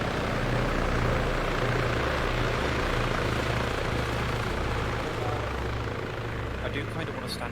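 A military video game helicopter drones steadily with a dense rotor thrum and engine roar, loud and continuous throughout, while players talk over it.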